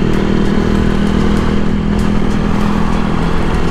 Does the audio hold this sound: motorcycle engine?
yes